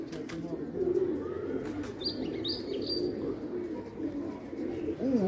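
Pigeons cooing and calling near and far in a pigeon-keeping setting, with a low throaty coo running steadily under scattered chirps and a few wing flaps. Someone talks intermittently in the background.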